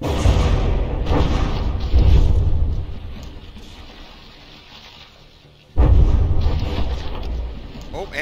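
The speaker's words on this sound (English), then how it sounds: "one of those two rear turrets just got blown off" Heavy explosions in the From the Depths naval battle game as a battleship's rear turret is blown off, loud rumbling booms that fade into a quieter lull before another big blast hits, with game ambience throughout.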